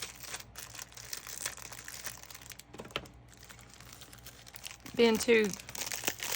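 Crinkly plastic packaging around craft supplies for a vintage Christmas junk journal is handled and pulled open, with a burst of loud rustling near the end under a person's talk.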